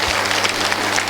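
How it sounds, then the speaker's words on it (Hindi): Dense, steady applause from a crowd at a school annual function fills the space, loud and continuous throughout. "तालियां बहुत तेज होने चाहिए।"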